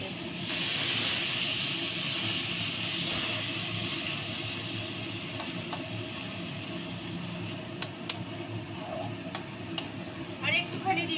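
Water sizzles and hisses steadily in a hot pan holding fried lentil dumplings (bori) for a Bengali shushni greens chorchori, a loud broadband hiss that eases slightly with a few small pops and clicks near the end.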